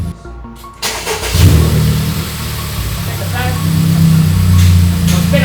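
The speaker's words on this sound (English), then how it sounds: "Just now started the car." A Honda Civic Type R, a totaled car being brought back to running, cranks and starts, then settles into a steady low engine rumble that carries on close by for several seconds.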